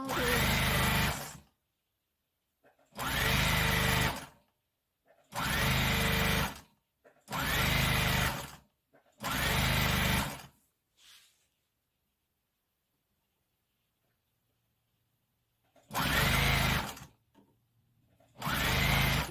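A sewing machine stitches a folded quarter-inch hem on a sequined prom dress in short, loud bursts of rapid whirring, with brief silent pauses between runs and a longer gap before two more bursts.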